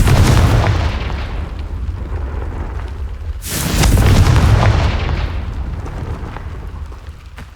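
A Confringo fire spell explodes in the Hogwarts Legacy video game: a loud booming blast with a sharp second burst midway, followed by a long rumbling fade, with no speech.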